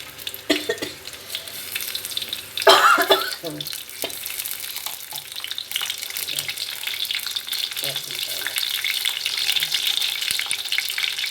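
Onions and tempering seeds sizzle and crackle steadily in hot oil in a pan while black gram dal soup is being prepared, with stirring clatter and a brief burst of water near the start, loud and close throughout.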